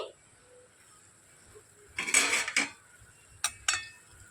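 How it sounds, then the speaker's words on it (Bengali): A metal lid lifted off a pan of frying chana dal snack, giving a few short clinks and scrapes around the middle, then two sharper knocks shortly after, fairly close and otherwise quiet. "এবার আমি ঢাকনাটা খুলে নিচ্ছি"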